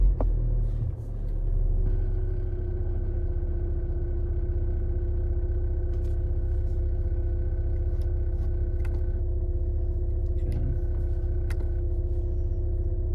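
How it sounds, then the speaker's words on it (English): A Volkswagen Jetta SportWagen engine catches and settles into a steady low idle, a constant rumbling drone with faint tonal hum inside the car, a few small clicks scattered over it. "Let's start the car."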